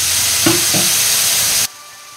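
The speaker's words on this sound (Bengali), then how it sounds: "তেল গরম হয়ে গেছে, দিয়ে দিলাম চিংড়ি মাছ।" Shrimp hit hot oil in a pan and sizzle steadily and loudly for about a second and a half, with a couple of brief stirring scrapes, then cut off abruptly into near silence.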